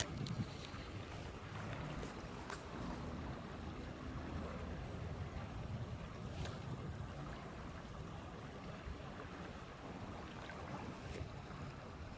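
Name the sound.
wind blowing by river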